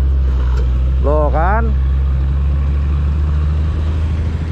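Truck rolling along a sagging road near the Suramadu area, a steady low engine rumble throughout with a brief voice speaking over it.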